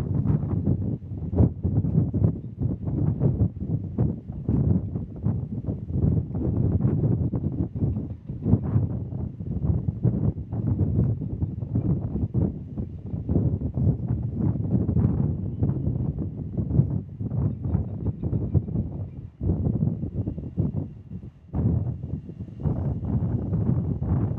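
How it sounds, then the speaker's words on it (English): Strong gusting wind at Kansas City International Airport buffets the microphone in a steady, loud rumble with repeated blustery surges throughout. "that wind just almost knocked me over"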